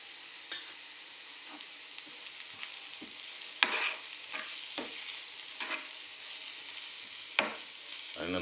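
Ginger and garlic frying in a pan for paneer chilli, with a steady close sizzle and occasional scrapes and taps from stirring.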